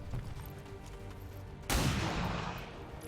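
Gunfire in XCOM 2: War of the Chosen: a single loud, sharp shot bursts in at about 1.7 seconds and rings out briefly, with a quieter low game ambience before and after.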